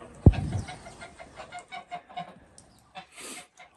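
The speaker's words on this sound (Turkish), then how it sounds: "Ve burada tavuklarımız var." Chickens cluck repeatedly in a farmyard, a steady stream of short clucks with one sharp louder squawk near the start, fairly close.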